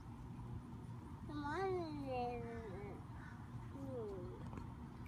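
A cat meows a few times, drawn-out rising and falling cries, fairly faint against a background hum and distant voices.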